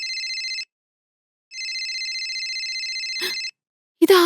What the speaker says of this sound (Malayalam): ഇത് ആരുടെ മൊബൈലായി റിങ് ചെയ്യുന്നേ?